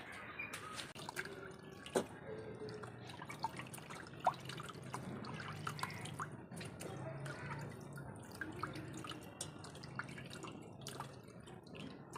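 Tap water runs and drips steadily while freshly cut fish is rinsed at a home sink, a soft continuous wash with small splashes and occasional sharp drips.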